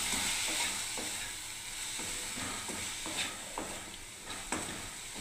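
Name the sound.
stirring and frying with salt and turmeric in wok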